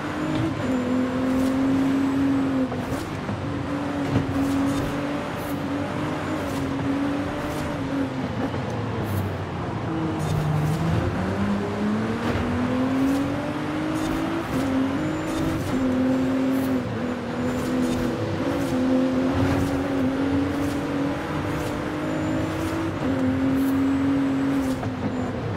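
Racing car engine in a less serious racing video game, a steady droning hum with pitch sweeping up and down through gear changes, loud and continuous for the whole stretch with no talk over it.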